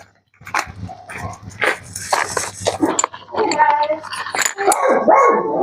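A dog in the background barks and yips repeatedly in short bursts, fairly close and loud, while people talk over it.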